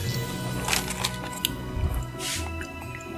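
Shrimp shells peeled by hand at a Christmas buffet, with soft cracks and squishy crunches close up over a steady hum of background room noise.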